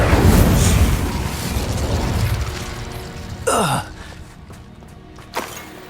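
An Incendio fire spell erupts in Hogwarts Legacy, a loud whooshing blast that opens the clip and fades into a roaring rumble, followed by a sharp, sweeping magical burst and a smaller crackle near the end.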